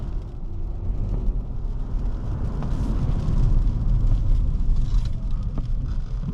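A 2025 Kia Sportage Plug-in Hybrid brakes hard, heard from inside the cabin as a steady low road and tire rumble that swells slightly mid-way, with no talking.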